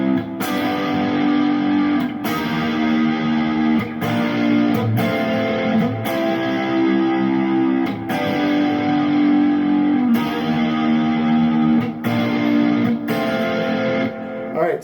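An electric guitar strums the chord progression of a rock song with a driven, slightly distorted tone, loud rhythmic chords changing every couple of seconds, played alone without talk.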